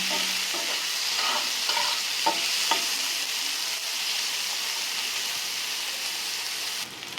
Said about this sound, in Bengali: এখন পেঁয়াজটা আমি ভালো মতন ভেজে নেব।